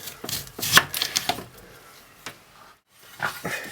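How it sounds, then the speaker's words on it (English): An onion is chopped very finely with a knife on a board: quick, irregular bursts of sharp close taps, with a brief pause before the chopping resumes. "let's firstly chop our onion up very finely"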